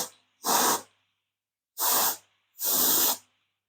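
A spray bottle fitted with a straw gives three short, loud hissing bursts, the last two close together, with silence between and no talking.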